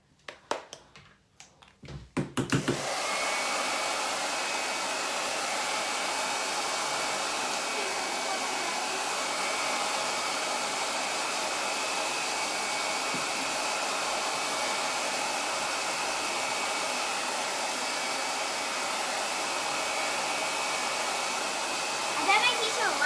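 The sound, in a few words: hair dryer blow drying a craft snowman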